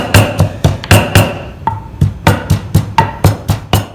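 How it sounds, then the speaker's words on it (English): Chopped inch-long pieces of long bean smashed for Thai green papaya salad, a series of about fifteen sharp, loud pounding thuds in a steady rhythm, close and alone. "This is a long bean. You just chop up about 1 inch long. Smash a little bit."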